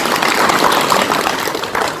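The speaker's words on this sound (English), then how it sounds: "Give him a round of applause." Steady, dense applause from a seated audience at a sales training session, a continuous wash of many hands clapping close by, with no talk over it.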